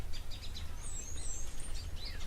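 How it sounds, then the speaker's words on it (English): Small birds chirp in a tree at a waterhole, with quick high tweets and short trilling calls overlapping in bursts over a low outdoor rumble, fairly close and clear. "Just in the tree, I can hear lots and lots of chirping."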